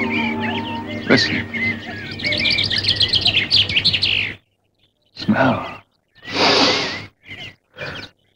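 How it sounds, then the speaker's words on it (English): Birds singing on a bright morning in the 1954 film The Million Pound Note: a busy, layered passage gives way to separate loud bursts of chirping with short silences between them. "this morning, the sun is shining and the birds are singing"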